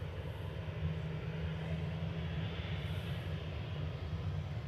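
A Ryanair Boeing 737-800 departs from Manchester Airport, heard as a faint, distant, steady engine rumble with a low hum running underneath.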